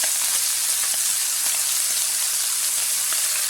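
Scallops sear in a hot skillet with a loud, continuous hissing sizzle and scattered crackling pops, steady throughout and close up.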